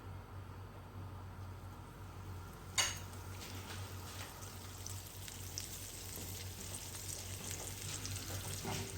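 A tablespoon of butter melts on a hot tawa, giving a soft continuous sizzle with one sharp clink as it goes in, then a steady gentle crackle, close and quiet.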